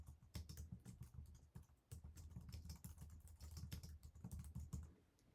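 Steady, fast typing on a computer keyboard, with close, crisp key clicks in irregular bursts throughout, fairly quiet and without talk.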